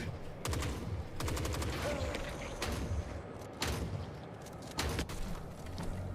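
Video game gunfire in Forever Winter, rapid automatic bursts repeating in quick volleys across the clip, loud and close, with brief player talk.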